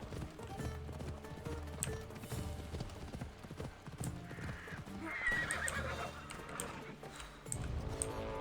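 A horse in the video game Assassin's Creed Odyssey whinnies while its hooves clip-clop in a steady rhythm, fairly quiet and nearby, over a low game background with no talking.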